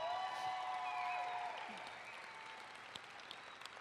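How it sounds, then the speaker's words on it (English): Audience at an athletics Hall of Fame induction ceremony claps for the inductees, a fairly faint, even wash of applause that slowly tapers off toward the end. "please give them all a round of applause as I introduce them"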